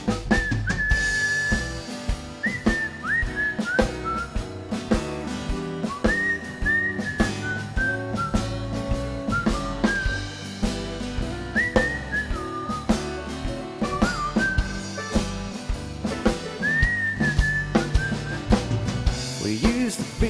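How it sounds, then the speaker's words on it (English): A person whistles a melodic tune over a full band accompaniment, the whistled line rising and falling in repeated phrases throughout, clear and prominent in the mix. "Wanna hear me whistle?"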